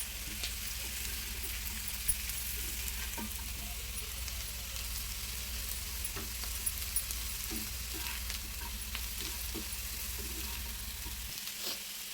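Potato fry with garam masala being stirred in a pan: a faint, continuous sizzle with soft, scattered stirring scrapes throughout and no talk.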